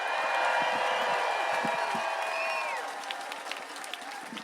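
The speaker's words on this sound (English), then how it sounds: "Please give a round of applause to Jordan, everybody." A crowd at an outdoor protest rally applauds with cheers and whoops, the clapping loud at first and then gradually thinning out.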